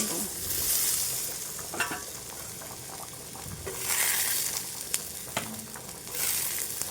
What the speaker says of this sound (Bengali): দেখো বন্ধুরা আমার আলুগুলোকে ভালো করে ভাজা হয়ে গেছে